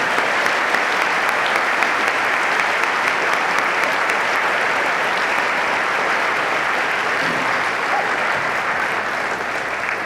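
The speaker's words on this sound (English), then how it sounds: "Please join me in a round of applause for our students who graduated with honors." A high school honors convocation audience applauds graduating honors students in a loud, dense, continuous wash of clapping that holds steady throughout.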